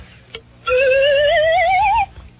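A single sustained warbling whistle, held for over a second with a wavering vibrato pitch, imitates the UFO sound from The Brady Bunch, loud and close in a radio studio.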